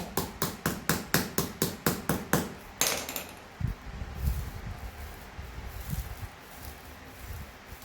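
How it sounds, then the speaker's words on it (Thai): Material is pounded flat while a handmade broom is being made, a rapid run of about ten evenly spaced sharp strikes, then a heavier knock followed by softer rustling and scraping. "ตอกให้แบนนะคะ"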